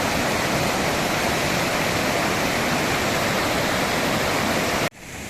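Vadattupara waterfall in strong monsoon flow, a dense, loud, continuous roar of rushing water that cuts off abruptly near the end.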